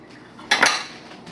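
Liquid sugar is stirred into a beer brew, heard as one brief clatter of a metal spoon against the vessel, close, with quiet before and after.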